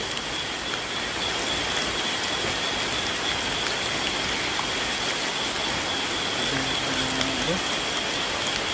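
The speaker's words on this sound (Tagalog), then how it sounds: "Grabe lumakas pa yung ulan mga ka-idol." Heavy rain pours steadily in a dense, continuous hiss, with a faint engine hum low in the background.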